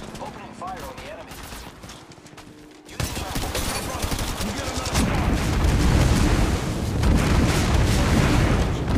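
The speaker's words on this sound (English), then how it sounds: "Opening fire on the enemy." Gunfire in Apex Legends Mobile during a ranked battle royale match, starting abruptly after a quieter stretch and building into loud, sustained rapid fire that stays close and continuous, with brief voice callouts over the shooting.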